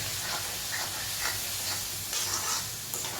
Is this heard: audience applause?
no